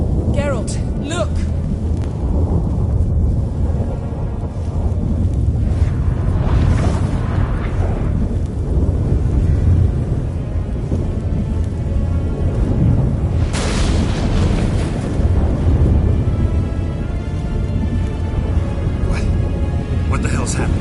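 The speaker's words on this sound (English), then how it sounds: "That a storm?" A thunderstorm in The Witcher 3: Wild Hunt, with deep rumbling booms and a loud crack that sit under steady character dialogue.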